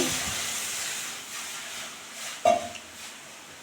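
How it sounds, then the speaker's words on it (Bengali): Water poured into a hot pan for a mango-leather chutney hisses briefly as steam, fading into a soft ongoing hiss with a sharp clink partway through, fairly quiet and with no voices. "আমি চাটনি বানানোর জন্য এখন জল দিয়ে দিচ্ছি"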